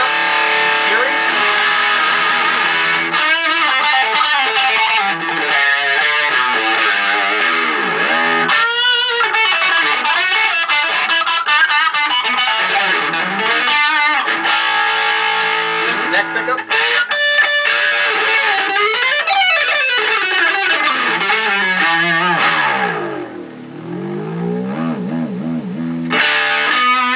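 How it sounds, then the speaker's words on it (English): An electric guitar through the bridge pickup in series with crunch distortion plays loud, crunchy distorted chords and riffs, sustained and gritty, with a brief dip near the end. "Let's put on a little bit of just crunch to get a nice dirty tone out of it."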